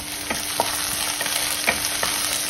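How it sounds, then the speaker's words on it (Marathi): Crushed garlic cloves sautéing with browned onions in a pan, a steady close sizzle broken by repeated scraping strokes of a spoon. "लसूणही छान परतून घ्यायचा आहे."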